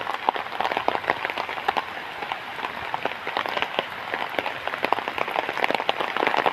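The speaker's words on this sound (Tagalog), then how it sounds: "Malakas na naman ang ulan." Heavy rain pours down in Diliman in a dense, constant patter with sharp drops striking close by. No voices.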